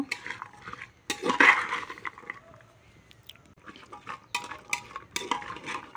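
Spices being stirred into a mixture in a bowl or pot, heard as irregular scrapes and clinks of a spoon, some in short bursts and others lighter, close by in a quiet room.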